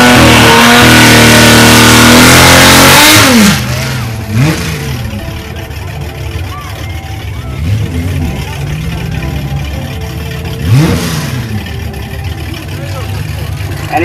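A 265 cubic-inch Hemi six-cylinder race car engine revs loud and close at first, then settles into a lower running drone with periodic rising revs, heard amid crowd and announcer-style talk.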